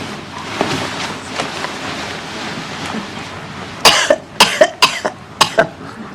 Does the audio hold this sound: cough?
yes